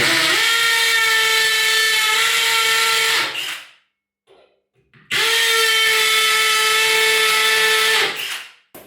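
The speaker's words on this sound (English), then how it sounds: "we'll drill this one here out" A high-pitched power drill drilling into tile whines steadily for about three seconds, stops briefly, then runs again for another three seconds, close and loud.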